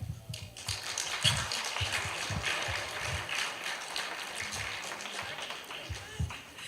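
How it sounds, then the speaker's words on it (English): An audience at an international child protection conference claps to welcome a speaker to the stage, a moderately distant, uneven patter of applause with voices mixed in throughout. "I'd like you to welcome her with a thunderous clap"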